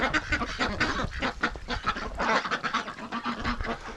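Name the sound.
ducks and geese calling, including Muscovy ducks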